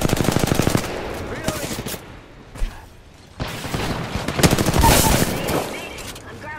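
Gunfire in the video game Apex Legends, a fast rattling burst of automatic shots up front, then scattered louder volleys and clattering in-game effects.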